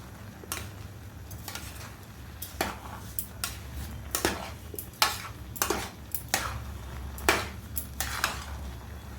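A spoon scrapes and clacks against a pan while coconut laddu mixture is stirred, a run of sharp, irregular metallic knocks over a low steady hum, close by, no talking.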